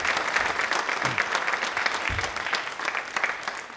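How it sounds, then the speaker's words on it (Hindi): Audience applause for Shantha Rangaswamy at a televised quiz event, steady dense clapping from a crowd with no pauses, fairly near and full throughout. "आपके लिए तालियां शांता रंगास्वामी जी के लिए जोरदार होनी चाहिए प्लीज"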